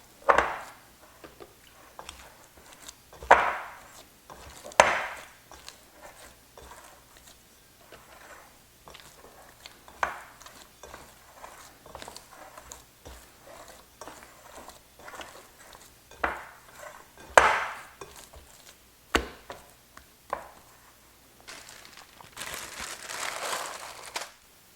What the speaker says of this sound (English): Stretch and fold is simply picking up one side of the dough and folding it back on itself.